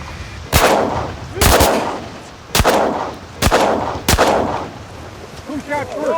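Shotguns fired during a duck hunt in a flooded cornfield, five loud close blasts at roughly one-second intervals, each ringing out briefly, with duck calls or quacks faintly at the end.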